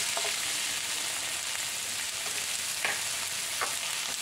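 Onion, potato and carrot sautéing in a pan, a dense, even sizzle running steadily throughout with a few faint stirring taps, close by and with no talk.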